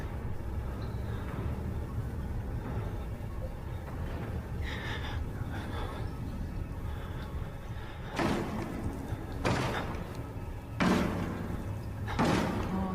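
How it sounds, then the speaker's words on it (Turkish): A door being broken down in the horror game Outlast: several heavy, sharp slams and thuds at irregular intervals, loud against a low ambient drone. "kapıyı kırıyor."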